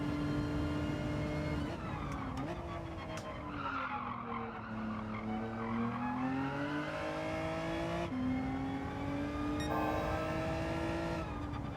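Race car engines in Gran Turismo 7, a loud, continuous drone whose revs rise and fall through gear shifts, with tires skidding and squealing throughout.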